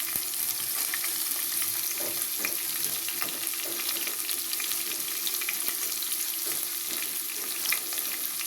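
Onions and curry leaves frying in a pan for poha made with flattened rice, a steady close sizzle with light stirring scrapes throughout, no voices.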